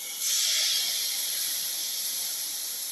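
Pumpkin tomato rice soup sauteing in a pan, a steady bright sizzle and hiss that starts abruptly and holds evenly close up, with no talking.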